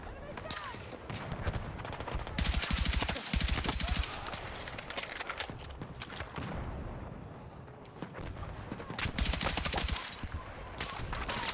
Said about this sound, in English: Okay, who's shooting over here?